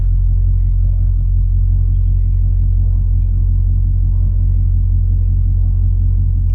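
Hemi-powered drag car on a qualifying run at Darana Dragway, heard as a loud, steady low engine rumble that fills the whole stretch without easing.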